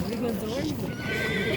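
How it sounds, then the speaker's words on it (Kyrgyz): A young male horse (colt) whinnies at the At-Bashy livestock market, a close, rising-and-falling neigh heard over people talking nearby. "Эркек ушундай тай экен"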